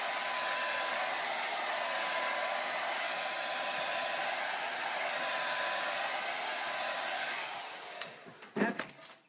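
A hair dryer runs steadily, drying paint on a candy corn craft door hanger, a continuous broadband whoosh that holds for about eight seconds before cutting off with a few clunks and handling bumps.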